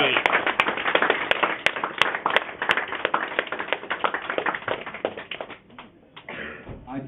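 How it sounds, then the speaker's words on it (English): A small group of people claps for themselves, light scattered clapping mixed with talking and cheerful voices, fairly close and quickly trailing off. "give yourselves a round of applause"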